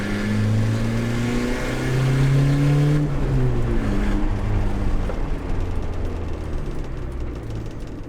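An old car engine runs rough and bucks on its first drive after sitting with old fuel, a steady low engine drone that surges and dips over several seconds.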